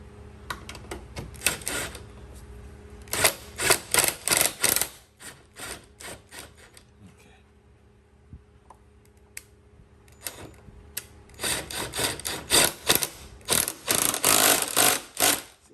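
A bolt is backed out of a frame mount on a Honda VFR800 during a frame slider install, heard as bursts of rapid ratcheting clicks separated by a quieter pause.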